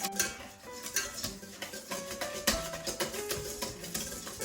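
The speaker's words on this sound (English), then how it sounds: "It's pretty hard to whisk it." Whisking a thick yellow mixture as sunflower oil is drizzled in, the whisk clinking and scraping steadily against the bowl in a busy, close-up rhythm.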